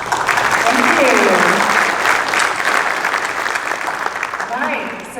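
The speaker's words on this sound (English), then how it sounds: "Let's give them all a warm round of applause, please." A conference audience applauds the panelists at a data center event, a dense, sustained clapping that swells early and then gradually thins out.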